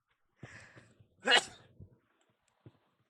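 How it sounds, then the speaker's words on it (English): A single human sneeze bursts out, sharp and close, after a brief quick intake of breath, followed by faint sniffs and small mouth sounds in an otherwise quiet room. "I've sneezed."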